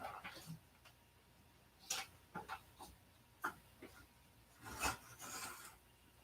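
Intermittent rasping strokes of hand sanding with a sanding block, a few short scrubbing bursts separated by quiet pauses, close and fairly soft.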